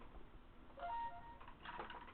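A phone signal of a few short electronic tones, faint and thin, rising over low room noise in a quiet space, with no talk.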